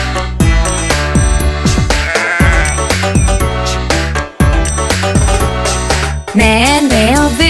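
A sheep bleats within a Portuguese children's nursery song, the wavering, quavering tone rising over a loud, busy music backing with steady beats and melody playing throughout.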